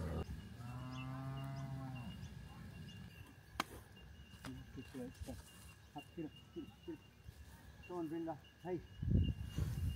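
A cow at a Krishna temple in Australia gives a drawn-out moo near the start, clear but not very close. Quiet outdoor ambience and scattered speech follow.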